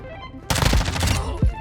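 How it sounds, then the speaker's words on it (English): A dense, loud burst of automatic gunfire rattles in the video game Call of Duty Modern Warfare, followed by one more heavy shot. "I'm taking fire"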